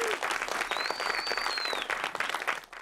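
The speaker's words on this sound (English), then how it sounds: "So please, let's give them a round of applause." Audience applause at a film festival awards ceremony, a steady, dense clapping from a crowd that holds evenly for a few seconds, with a faint whistle cutting through the middle.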